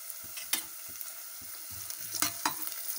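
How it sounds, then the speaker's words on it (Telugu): Drumstick pieces sizzle in a pan with browned onions and green chilies, a steady frying hiss broken by sharp stirring clatters and pops up close. "ఇప్పుడు ములక్కాడ ముక్కలు వేద్దాం."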